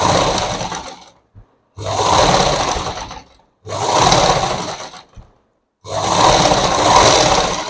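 A sewing machine stitches cloth in a beginners' tailoring class, four loud whirring bursts of a second or two each, separated by short silent pauses, close up with no talking.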